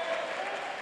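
A basketball crowd in an Elite League game applauds a player who has just drawn a foul, a steady burst of clapping filling the hall.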